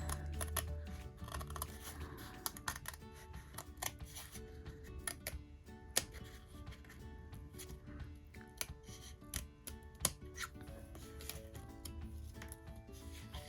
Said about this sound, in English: And I just cut like this.